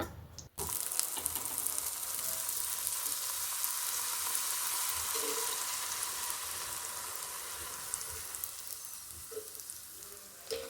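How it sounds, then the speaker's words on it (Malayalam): Steady, dense sizzling of puris frying in hot oil, continuous and fairly close, with a few faint clinks and no voices. "നന്നായിട്ട് ചൂടായിട്ട് വേണം പൂരി അതിലേക്കിടാൻ, ഇല്ലെങ്കിൽ പൊള്ളി കിട്ടില്ല."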